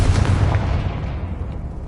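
A Confringo fire spell explodes in the Hogwarts Legacy video game, a loud booming burst that rolls into a fading rumble over about two seconds, with no talk.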